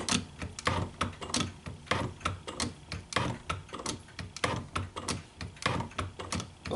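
A shop-built hand shaper cutting metal with a tool bit, making a steady run of quick, sharp scraping ticks in a regular back-and-forth rhythm, close and moderately quiet with no talking.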